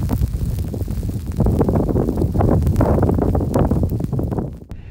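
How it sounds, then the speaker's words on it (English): Strong, constant wind sweeping across open sand dunes and kicking up sand, roaring and buffeting close to the microphone in uneven gusts before easing off at the end. "I've got this constant wind that's kicking up the sand."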